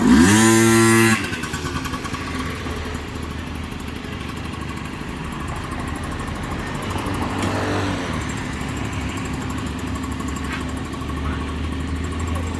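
A Honda Dio AF28 scooter with a 44 mm cylinder and stock carburettor gives a brief loud rev, then settles into a steady, even idle, recorded close by.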